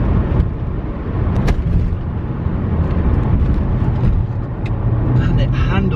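A BMW 130i engine rumbles and revs while the car drives, a loud low drone with a voice speaking over it.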